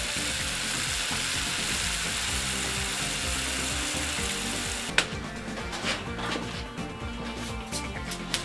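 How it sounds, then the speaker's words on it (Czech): A pot of water with mustard seeds boils over a gas burner, giving a steady, loud, close hiss and bubbling. A sharp clink is heard partway through, followed by a few softer knocks. "Takže už se nám to vaří, ještě to necháme minutku a předsadíme to."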